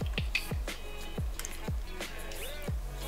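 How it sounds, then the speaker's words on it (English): Eggs are cracked into cake batter with a series of sharp taps and cracks, each followed by a soft wet squish or drip, close and fairly quiet, with no talking. "Now I'm gonna crack my eggs."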